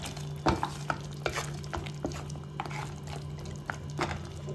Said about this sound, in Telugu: ఈ కర్రీని బాగా కలుపుకొని ఈ కారం అన్నీ ముక్కలకు పట్టేలా కలుపుకోవాలి బాగా.